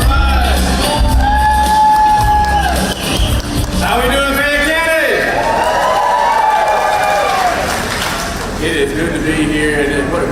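A crowd at a political rally in Peachtree City, Georgia, shouts, whoops and cheers loudly, with scattered applause and overlapping yells sustained across the whole stretch.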